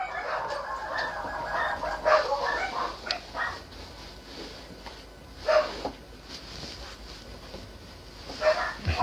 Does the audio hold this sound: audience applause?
no